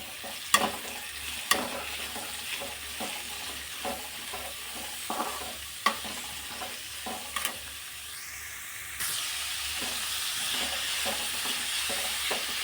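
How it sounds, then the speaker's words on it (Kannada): Chopped onion frying in oil in a pan, a steady close sizzle punctuated by a rhythmic series of scraping stirs, with the sizzle growing brighter and louder near the end; no talking. "ಇವಾಗ ಇಲ್ಲಿ ಕಟ್ ಮಾಡಿರೋ ಈರುಳ್ಳಿ ಹಾಕ್ಕೊಳ್ತಾ ಇದ್ದೀನಿ."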